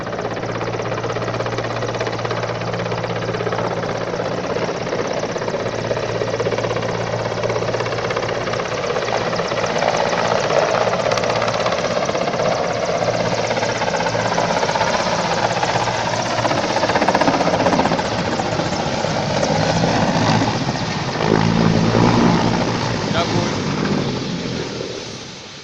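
A helicopter sits on the ground in ground resonance, its rotor and engine roaring loudly and steadily with a throbbing low drone that swells and wavers for the full length.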